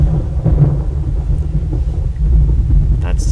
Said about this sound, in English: That's some very loud thunder you got there, kiddo.